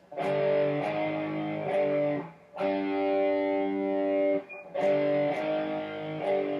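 Three bursts of heavily distorted electric guitar power chords, each held for about two seconds with short gaps, loud and close with no talking.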